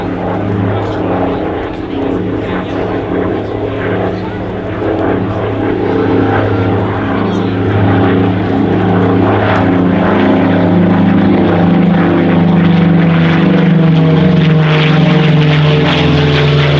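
A MD-311 Flamant propeller aircraft flies at an air display, its steady droning engine note loud and continuous throughout, swelling slightly toward the end, with faint talk beneath it.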